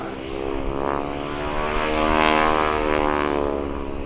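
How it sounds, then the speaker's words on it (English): A propeller aircraft, a Stearman or Harvard, passes at an air show with its propeller tips going supersonic, a loud rasping buzz with strong engine harmonics swelling as it flies by. "after the raft of a Stearman, or indeed a harvard getting airborne, is the wing tips, the tips of the propellers going supersonic"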